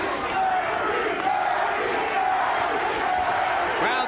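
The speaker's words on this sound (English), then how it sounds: "Crowd starting to chant, Curry, Curry, Curry." Boxing arena crowd at a Terry Norris vs. Donald Curry fight, a dense, steady roar of many voices with rising chant-like shouts throughout, loud and continuous.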